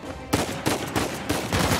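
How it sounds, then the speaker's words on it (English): Uncharted 4 game gunfire during an auction house shootout: several loud, sharp shots in quick succession, each a broadband crack with a short tail, close and unaccompanied by speech. "Guns blazing."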